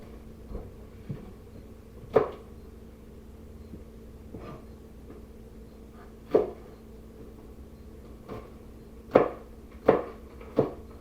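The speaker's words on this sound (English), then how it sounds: "next we want to cut up some scallion, or what we like to call green onion" A knife chops scallions (green onions) on a cutting board, a sparse, irregular series of sharp, fairly close knocks spread over a quiet background with a faint steady hum.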